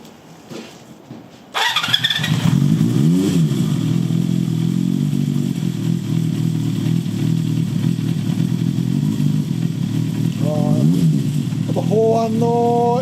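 A worn, unrestored Honda CB400Four motorcycle with a Yoshimura short exhaust starts up close and loud, then settles into a steady, throbbing idle broken by a couple of quick throttle blips.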